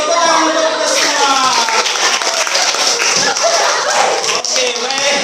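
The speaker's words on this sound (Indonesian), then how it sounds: "tepuk tangan untuk kita semua" A class of students claps their hands together during a classroom guidance session, loud and close. The clapping is busy and continuous, with some voices and tapping mixed in.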